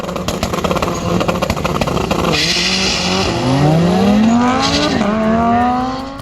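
A car with a loud, raspy aftermarket fart-can exhaust accelerates hard nearby, its engine note climbing through several gear changes in a droning, buzzy roar.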